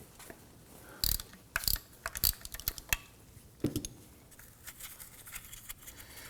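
A hand ratchet spins a bolt out of a starter on a 2003-2014 Volvo XC90, giving bursts of quick metallic clicking with brief pauses, close and fairly clear.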